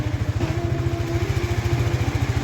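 A 400cc motorcycle engine runs loud and close with a steady, rapid low thumping pulse throughout, holding a fairly even rev with no voices over it.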